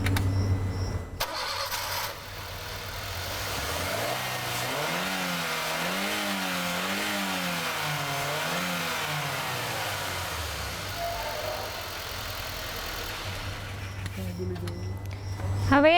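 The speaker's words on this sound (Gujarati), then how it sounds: "એન્જિનને ચાલુ કરો" A car engine, being checked for charging-system, bearing or drive-belt noise, cranks and fires, then runs with rising and falling revs before settling back, loud and close, with a steady background hum throughout.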